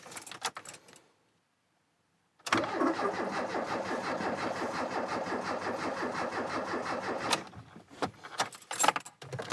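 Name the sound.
engine cranking, trying to start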